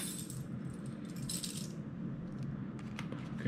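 Keys are handled close by, giving a brief faint metallic jingle and clink over quiet background noise.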